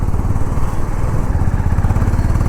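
A Honda CB350 motorcycle's exhaust burbles steadily and loudly up close during acceleration, a throbbing low rumble with no talk over it.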